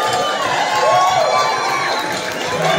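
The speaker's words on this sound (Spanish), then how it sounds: "Un fuertísimo aplauso" A studio audience at a Spanish-language TV show cheers and applauds in a loud, steady wash of crowd noise lasting the whole moment, with shouts rising above it.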